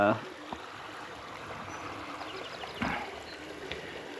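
Steady creek water running and trickling at a campsite, a soft, even wash with faint splashes and children's voices now and then as kids play in the stream.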